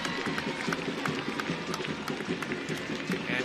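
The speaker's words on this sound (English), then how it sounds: "That brings this crowd to their feet" A stadium crowd at a soccer match as a corner is won, a steady roar of cheering and noise rising around the field, with a commentator's voice faintly under it.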